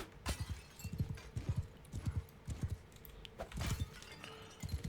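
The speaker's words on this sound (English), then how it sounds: "The horse you start with is called a... usually it's a sumpter horse." Hooves of a sumpter horse clip-clop in Mount & Blade 2 Bannerlord, a steady rhythmic walking gait of soft, close thuds repeating across the stretch with no talk.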